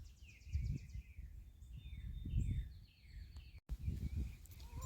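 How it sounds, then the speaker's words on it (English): Birdsong rings out in the open air beside flower beds on a small farm with chickens, bright chirps and trills scattered over about five seconds, fairly faint, with low rustling and a short break near the end. "hearing the birds sing"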